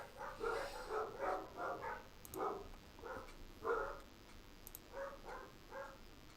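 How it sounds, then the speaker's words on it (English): Dogs barking in Project Zomboid, a series of repeated mid-distance barks in uneven bursts over quiet background. "For some reason the dogs are going mad."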